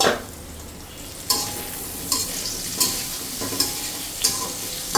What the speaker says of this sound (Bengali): এখানে দেখো মেয়েদের জন্য আলু ভাজা করছি